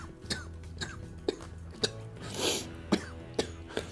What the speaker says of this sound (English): I like to cough down my chicken biscuit.